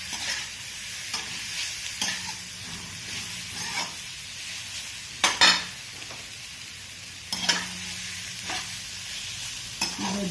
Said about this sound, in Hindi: थोड़ा सा हम इसको चलाएंगे ताकि हमारी सारी वेजेस इसमें मिक्स हो जाए।